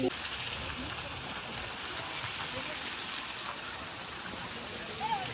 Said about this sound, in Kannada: ಎಷ್ಟು ಚೆನ್ನಾಗಿ ನೀರೆಲ್ಲ ಬೀಳ್ತಾ ಇದೆ